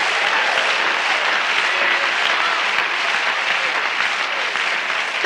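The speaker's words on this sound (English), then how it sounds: "let's clap our hands to the Lord today." Worshippers in a church service clap their hands together, producing a sustained, even wash of applause that holds at a steady loudness throughout.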